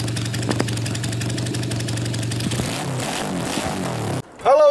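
A motorcycle engine idles with a steady, close mechanical hum and rattle for several seconds, then cuts out abruptly, followed by a brief voice.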